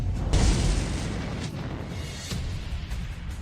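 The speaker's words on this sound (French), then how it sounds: "Docteur Wang, il y a un incendie dans la zone expérimentale. Il a été accompagné d'une explosion." A loud explosion bursts out amid a laboratory fire, a heavy boom with a deep rumbling low end that sustains and rolls on for several seconds.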